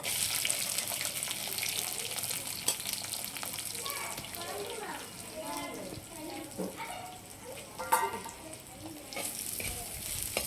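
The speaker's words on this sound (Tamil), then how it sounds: "சின்ன வெங்காயம் கட் பண்ணி வச்சுருக்கேன் வெங்காயத்தை சேர்த்துப்போம்" Chopped small shallots drop into a pan with fenugreek already frying, setting off a close, crackling sizzle broken by stirring scrapes and splashy bursts, while a voice talks over it in places.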